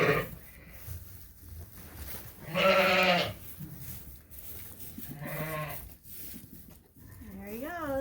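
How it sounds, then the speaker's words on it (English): Sheep bleat repeatedly in a crowded lambing barn, loud wavering calls coming one after another at close range, with people talking quietly in between. "we're going to let this sheep out right now."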